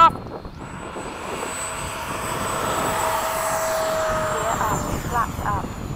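An E-flite 80mm F-4 RC model jet spools up and takes off with a loud, steady whining roar of its ducted fan, a high tone holding throughout, while people talk nearby.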